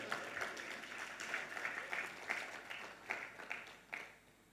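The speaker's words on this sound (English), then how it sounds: "So a round of applause to all of us." Faint, scattered applause from a conference audience at an industry forum in Ghana, a few irregular bursts of clapping fading out over several seconds.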